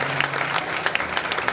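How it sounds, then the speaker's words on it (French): A church congregation clapping after a sermon reading, a dense, steady patter of many hands close together, brief and unbroken. "Acclamez très bien pour la parole de Dieu"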